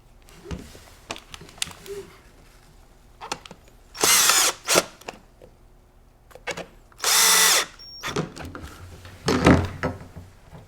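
A power screwdriver drives Phillips head screws into the recoil pad of a Benelli Montefeltro shotgun, two loud whirring bursts of about a second each, close up, separated by quieter clicks and handling of the stock.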